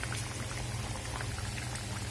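Pea curry simmers in a covered pan, a dense, even bubbling hiss with soft low burbles that continues unbroken and fairly close.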